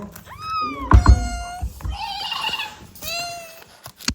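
A kitten meows several times, high and thin, close by, with a thump and some soft handling noise between the cries.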